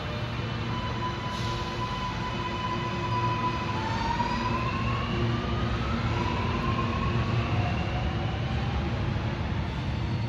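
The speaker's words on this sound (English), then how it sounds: "And here we see the metro departing." A Sydney Metro train pulls out of a station, its rising and sliding electric motor whine over a steady low rumble, close and continuous with no talk.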